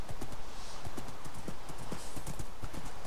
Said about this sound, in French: traverser une forêt à cheval, ça va être tendu